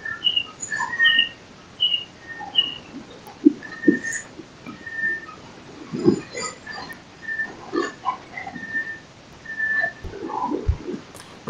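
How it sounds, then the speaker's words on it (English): Repeated barbet calls, including a tinker barbet, a run of short tonal notes and a steady hooting pulse, against a quiet, noise-reduced background with a few soft knocks. "we can still hear the bird calls"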